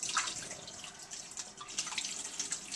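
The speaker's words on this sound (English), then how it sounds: "Well, just to make sure, we'll rinse it out a little." Tap water runs into a milk-warming pan as it is rinsed out in a kitchen sink, a soft, continuous hissing splash with small fluctuations, faint and fairly close, with no talk over it.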